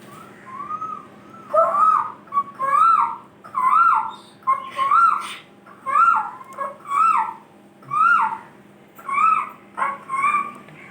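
Whistled birdsong imitating a cuckoo in a puppet show set in a forest singing contest: a voice repeats short warbling phrases in regular bursts roughly every second, clear and close, with no talking.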